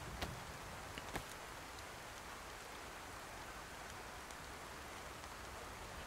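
Steady rain falling in the video game DayZ, a soft even hiss of drops with a couple of brief sharper taps near the start, no voices.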